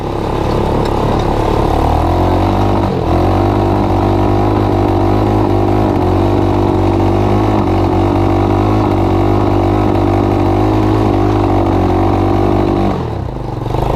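An ATV-powered EZGO golf cart with a custom exhaust runs with the choke partly on, a loud, close engine holding a lumpy, uneven idle with a brief dip near the end.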